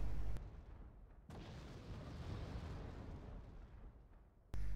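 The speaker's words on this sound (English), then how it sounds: "That's me artillerying where that tank was" Artillery barrages in the real-time strategy game Wargame: Red Dragon, a sustained rumbling roar of shelling that swells and decays over several seconds, bracketed by sharp loud bursts at the start and end, with no talking.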